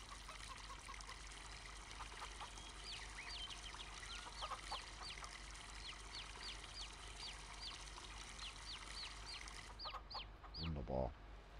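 Chickens cluck repeatedly at a farm in Farming Simulator 22, a run of short, fairly close calls over a steady stream of water filling a barrel, ending with a brief louder sound near the close.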